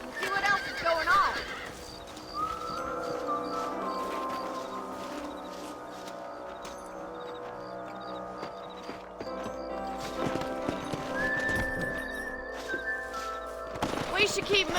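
Horses in the video game Red Dead Redemption whinny and hooves clip-clop steadily, with a busy outdoor ambience and a background musical tone.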